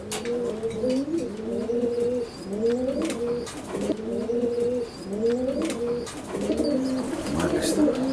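Pigeons coo in repeated rolling phrases close by, with a low murmur of background activity.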